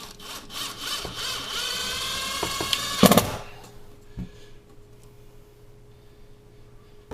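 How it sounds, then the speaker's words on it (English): A hammer drill whirs loudly for about three seconds, its motor pitch shifting, then cuts off, leaving a few faint knocks and quiet. "I got a hammer drill"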